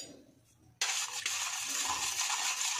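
Sugar and salt being stirred into a khaman batter base, a steady close scraping and swishing of a spoon in a bowl that starts abruptly and continues without pause, with no talk.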